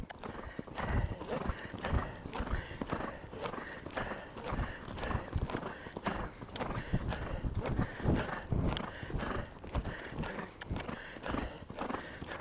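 Horse hooves clip-clopping steadily while the horse runs a right-left-right riding pattern, a continuous quick rhythm of close hoof beats with faint talk underneath.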